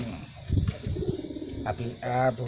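A telo pigeon coos during basic training, soft low throaty coos in short bursts close by, mixed with speech-like voices and a brief brighter call near the end.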